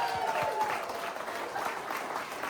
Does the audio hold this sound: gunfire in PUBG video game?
no